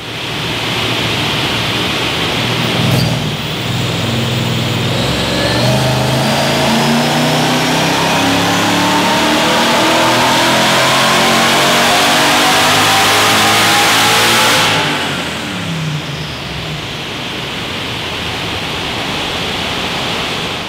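Supercharged Mercedes C43 AMG with an M113K engine in a W202 body, revving hard on a dyno run. The engine builds to a loud, sustained roar with a rising pitch for about twelve seconds, then drops back to a steady lower drone.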